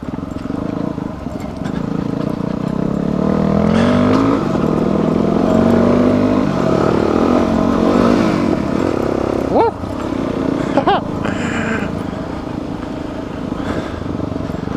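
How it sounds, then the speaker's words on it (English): Motorcycle engine revving and pulling through gears while bouncing up a rough, rocky mountain trail in the Rockies, a steady mid-level drone with pitch sweeps and shifts, under occasional talk. "You rev the engine up."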